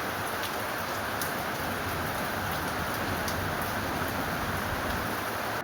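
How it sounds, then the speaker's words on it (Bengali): Heavy monsoon rain pours down in a dense, unbroken roar, steady and fairly close for the whole stretch, with a few brief sharper drip ticks on top and no voices. "একদম মুষলধারে বৃষ্টি"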